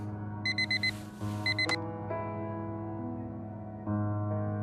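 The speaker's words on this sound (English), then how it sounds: "Every day that alarm goes off." An alarm clock in the video game Fragments of Him goes off with two short bursts of rapid high beeping, set over a sustained musical tone from the game's soundtrack.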